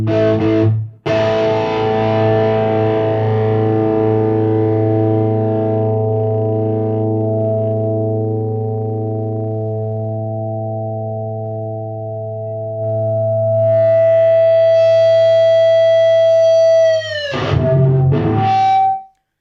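A sustained distorted guitar chord rings through a Decimator II noise gate pedal, decaying slowly, then a second chord swells in and is abruptly chopped off by the gate, leaving silence.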